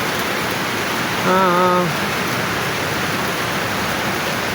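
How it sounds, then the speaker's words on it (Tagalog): Heavy rain pours steadily in a tropical yard after a full night of downpour, making a dense, even hiss. A brief spoken exclamation cuts in over the rain. "Grabe ang ulan talaga, simula pa kagahapon hanggang ngayon magdamag."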